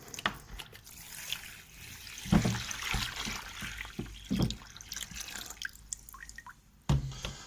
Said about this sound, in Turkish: Yaklaşık içine 3 kilo yakın su döktüm.